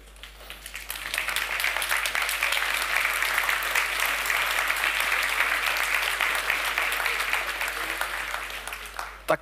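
An audience in Brno claps for several seconds. The applause swells quickly, holds as a dense sustained patter and fades toward the end.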